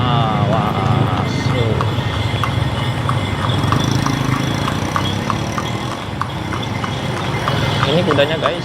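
Six horses trot along a road beside a moving motorcycle, their hooves clip-clopping in a steady rhythm close by over the motorcycle's engine drone and wind noise, with voices speaking.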